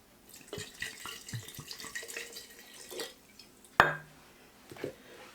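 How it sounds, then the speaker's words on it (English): Vinegar pours from a bottle into a jar packed with fire cider ingredients, giving a soft, uneven liquid trickle with a few clinks of glass, near and quiet with no talk. "Now I can add enough vinegar to cover it."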